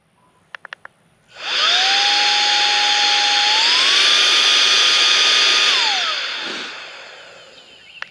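A small battery-powered air blower, with a built-in light, is switched on after a few clicks and spins up to high speed, a loud, whining rush that steps up in pitch, holds and then winds down.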